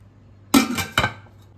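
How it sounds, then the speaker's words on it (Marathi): A metal lid set down on an idli steamer pot, two quick clanking knocks close by, the second following about half a second after the first, ringing briefly in a quiet kitchen. "आता यावर ठेवूयात आपण झाकण"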